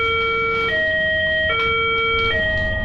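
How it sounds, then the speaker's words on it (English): A loud electronic school lockdown alarm tone stepping between two pitches in a repeating pattern, steady and close, with no voices. "an alarm came on, and the school was placed on lockdown"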